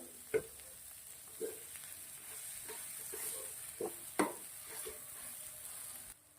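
A spoon stirs a spice mixture in a pan, scraping and knocking against the metal in a handful of distinct strokes over a faint, steady sizzle.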